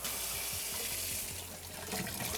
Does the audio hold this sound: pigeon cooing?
no